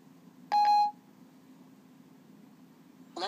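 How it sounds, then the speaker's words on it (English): A single short electronic beep from an iPhone 4S when Siri activates, a clean tone near the start that stands alone over a faint background hiss, followed by a brief muffled noise at the end. "how to get rid of this annoying beeping sound"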